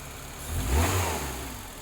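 A Fiat Tempra 1.6 MPI engine running on a diagnostic tuning check while not yet fully warmed up, holding a steady mid-pitched drone that swells briefly in a light rev near the middle before settling back, close and continuous with no talk.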